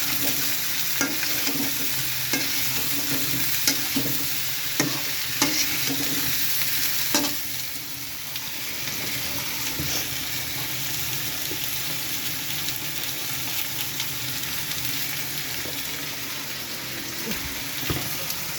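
Garlic sizzling in a pan with a continuous frying hiss and occasional stirring clinks throughout, fairly quiet and steady, no speech.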